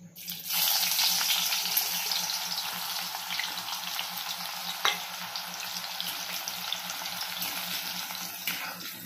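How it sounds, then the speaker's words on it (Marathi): Onion fries in a pan until brown, a loud, continuous sizzle starting abruptly and holding steady near the mic, with occasional sharp pops and a stirring tap; no speech. "आता आपण हा कांदा आहे ना, हा कांदा ब्राऊन करूया"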